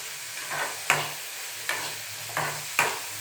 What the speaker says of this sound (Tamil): வேர்க்கடலையும் போட்டுருக்கிறேன் கொஞ்சம். இது கொஞ்சம் நல்லா வறுக்கணும்.